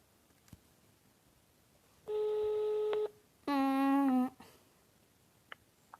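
Phone call tones while ringing a friend at home: a steady beep lasting about a second, a short pause, then a brighter, harmonic-rich tone of similar length, clear and close over quiet room background.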